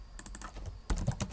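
Quick bursts of keystrokes on a computer keyboard while entering a measure name in Power BI, close and crisp clicks in two short flurries with a brief pause between, no talking.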